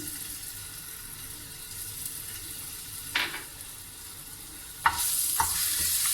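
Half a teaspoon of ginger goes into a tablespoon of hot oil and fries with a low, steady sizzle, broken by a couple of sharp clinks and a louder hiss near the end, close by and with no speech.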